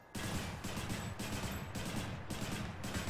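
In the game Hades, a gun fires rapid three-round bursts over and over, sounding like a dense, steady fusillade of crackling shots with short gaps between volleys.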